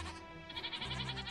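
Minecraft goats bleat in quick succession, several short wavering cries overlapping in a brief burst with no talking.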